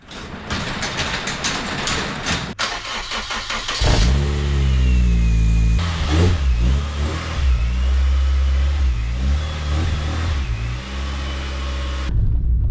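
Honda Fit GD3 engine revving hard through several gear changes on a test drive, loud and close, with rising and falling pitch sweeps and brief dips between shifts.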